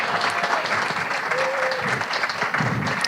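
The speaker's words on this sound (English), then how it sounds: "please, big round of applause for all our performers, including Finn Thompson from Flowing Wells" An audience applauds the performers at a poetry recitation semi-final, a loud, continuous wash of clapping that holds steady from start to finish.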